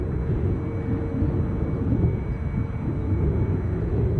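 An airliner takes off from Edinburgh airport, a deep, rumbling engine roar heard from a distance that stays steady and loud across the clip, with no talk.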